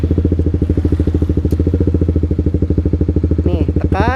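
A clutch-operated motorcycle idles close and loud with a steady, rapid chugging pulse, and a brief rising whine sounds near the end.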